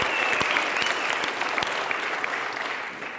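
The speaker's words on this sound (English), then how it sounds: "Give yourselves a round of applause." Audience applause fills a Youth Day speech event in Khayelitsha, a steady dense wash of clapping that holds loud throughout with a few sharper individual claps standing out.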